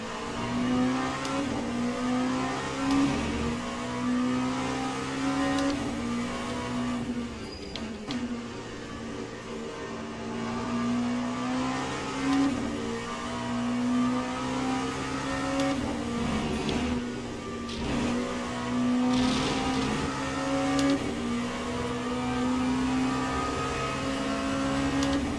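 Race car engines in Le Mans Ultimate run at sustained high revs near an Alpine during a three-hour Le Mans race, with a steady whine and periodic pitch dips from gear shifts, continuous and close.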